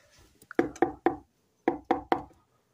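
Three sharp knocks on a door in a Toca Boca video game, sounding as a quick pair of raps, a short pause, then a second pair, close and distinct with nothing else around them.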